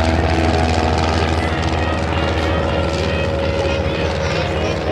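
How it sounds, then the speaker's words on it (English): A WWII-era L-16 Champ light liaison aircraft flies at a 2009 airshow in New Garden, its propeller engine droning steadily and loudly throughout with no gaps, a constant hum with faint background noise. "Our L-16 or Champ aircraft are going to be flown by Rich Wallace this afternoon."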